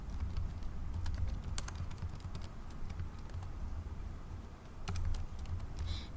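Fingers tapping on a computer keyboard in irregular quick bursts of clicks, close and fairly quiet against a low background hum.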